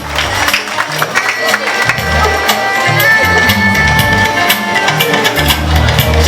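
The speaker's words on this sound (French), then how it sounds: "Applaudissez." Crowd applause at a school cultural day: sustained clapping from an audience, thick and continuous, with music playing underneath throughout.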